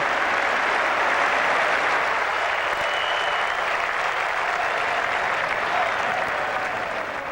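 A cricket crowd at an England Ashes match applauds in a sustained, dense wash of clapping that stays loud throughout and eases slightly toward the end.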